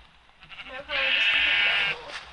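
A single loud sheep bleat from a video game, wavering and sustained for about a second, with faint speech and background sounds before and after.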